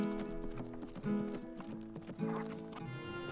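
Horse hooves gallop in a Western video game, a quick rhythmic clip-clop running under a steady layer of game music.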